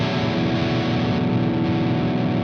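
A heavily distorted electric guitar through a preamp set for high gain sustains a thick, saturated chord, loud and close, with no voices.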